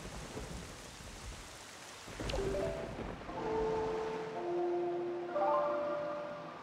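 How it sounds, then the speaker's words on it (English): Rain in the video game Zelda: The Wind Waker, with thunder rumbling under a steady broadband wash of rainfall while sustained tonal game music notes rise over it. "No, I can't do it now because it's raining."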